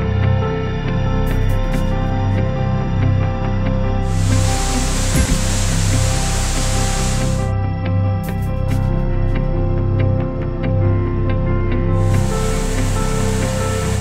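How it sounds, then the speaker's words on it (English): Steady roaring rush of a waterfall in Uvas Canyon, Santa Clara County, fills the whole stretch, loud and continuous, with brief bursts of brighter hissing spray now and then. "What's the power of a waterfall?"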